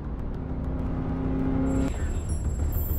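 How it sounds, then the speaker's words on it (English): A car passes by on a city street in Abu Dhabi, a steady engine hum that builds and then drops off in a brief whoosh, heard alone with no talk. "Vehicle is passing EST 47"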